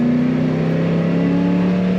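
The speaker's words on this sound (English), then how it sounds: "The kickdown and good acceleration coming out of the corner." A 1972 Oldsmobile Cutlass Supreme convertible kicks down and accelerates out of a corner, its engine holding a steady, loud, droning pull with a slight rise in pitch, heard from inside the car.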